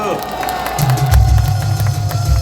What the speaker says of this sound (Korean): 이승만 대통령한테 박수 한번 합시다. 박수.